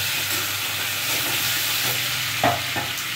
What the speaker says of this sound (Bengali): এবার ভালো করে ভাজা হচ্ছে